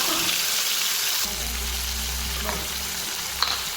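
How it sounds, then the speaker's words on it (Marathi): Finely ground onion fries steadily in a spoonful of oil for chole masala, a continuous close sizzle with a deeper bubbling hiss joining partway and a soft clink near the end. "हे बघा कांदा छान परतोय"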